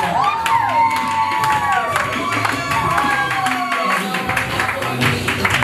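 A church congregation cheers and acclaims at a pastor's surprise birthday celebration, with loud sustained crowd shouting, whoops and high children's cries filling the space, scattered claps and a voice talking over the din.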